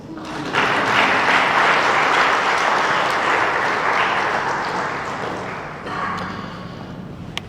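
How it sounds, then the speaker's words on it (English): An audience applauds at a neonatal health event in Ghana, a broad, sustained wash of many hands clapping that swells at once, holds, then slowly thins out with a brief second swell near the end. "I thought I heard some applause somewhere."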